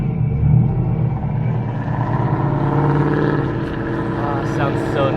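A bagged Ford Mustang S550 rolls up close with a deep, throaty engine rumble that holds steady and then eases, with people talking over it.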